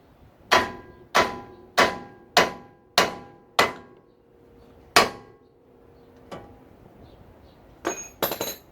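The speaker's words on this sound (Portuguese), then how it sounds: "Para soltar o pivô da direção e esse pivô superior aqui, é na pancada" A hammer strikes the steering ball joint on a 1995 Honda Accord, six sharp metallic blows in a steady rhythm followed by a few lighter, scattered knocks and clinks, close and loud.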